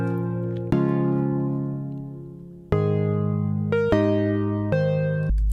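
Synth chord layer in an Ableton Live 10 beat: sustained, tonal chords that change every second or two, clean and alone with no voices.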